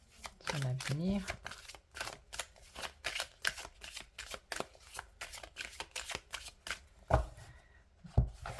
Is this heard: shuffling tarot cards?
yes